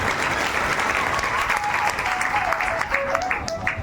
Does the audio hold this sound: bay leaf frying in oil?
no